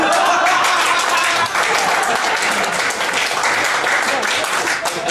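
Audience applause breaking out after a sponge ball magic trick, dense and loud clapping that fills the room steadily throughout with no letup.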